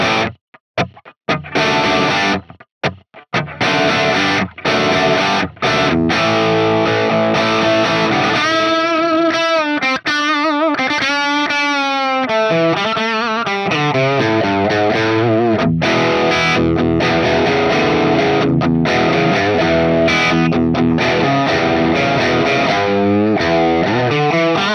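Distorted electric guitar played through a Tonex capture of a Marshall MKII SV20H amp, a few choppy stabs at first, then sustained bending chords and riffs ringing out loud and continuous.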